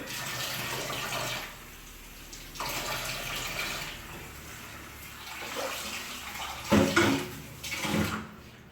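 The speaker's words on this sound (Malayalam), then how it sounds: "വാട്ടർ ബക്കറ്റാണെങ്കിൽ വെള്ളം പോകാൻ നല്ല സുഖമാണ്" Water splashes and drains out of a bucket of small prawns in several uneven bursts, rushing loudly then easing, with a few sharper sloshes near the end.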